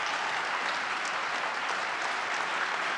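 A crowd applauds at a political speech, dense steady clapping filling the whole stretch without pause, loud and close.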